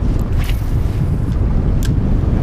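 Strong wind buffets the microphone on a lake during a fishing trip, a steady loud roar and rumble with faint water splashes, and no one speaks.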